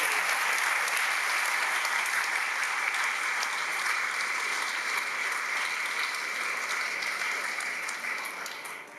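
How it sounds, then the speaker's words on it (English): Sustained audience applause after the speakers at a luncheon, a steady dense wash of clapping heard from a distance that carries on for the whole stretch and fades slightly near the end. "I'd just like to give our speakers another round of applause."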